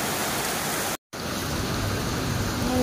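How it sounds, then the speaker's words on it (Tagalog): Heavy rain pours in a dense, steady hiss, briefly cutting out for a moment before resuming just as strong. "Ang lakas ng ulan, no?"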